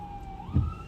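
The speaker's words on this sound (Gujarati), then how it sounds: "સામે લાઈવ બંબો નીકળ્યો" A fire engine siren passes on a street, a single steady wail that rises and then bends in pitch as it goes by, with a low rumble of traffic swelling briefly underneath.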